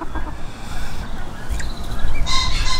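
Chickens in a breeding flock with roosters and hens cluck and call close by in a busy, noisy run, with a rooster's higher call near the end.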